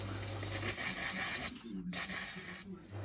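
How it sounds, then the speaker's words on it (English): Sharp, loud aerosol hissing of brake cleaner in two bursts with a brief pause between, sprayed up close to clean oil spillage on a Rover 75 automatic transmission. "Now I spray with some brake cleaner to get off any oil spillage."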